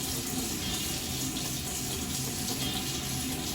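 Water runs steadily from a tap at a warm setting while a beard is washed, a constant close splashing hiss filling the whole stretch with no talk.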